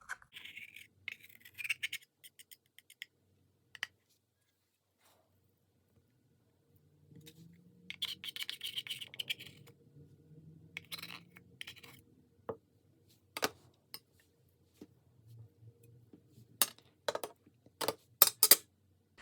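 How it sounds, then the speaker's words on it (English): Scraping of broken Pat McGrath eyeshadow out of its pan with a small tool, faint dry scratching strokes in short irregular bursts separated by quiet pauses, with no talk. "I am going to scrape all of this out of here."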